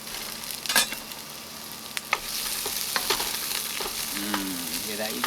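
Sweet peppers sizzle and crackle as they fry in a pan on an outdoor grill, with scraping stirs and occasional clatters over a steady hiss throughout.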